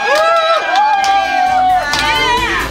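A crowd cheering and whooping loudly, sustained excited voices rising and falling for a few seconds, with scattered applause underneath.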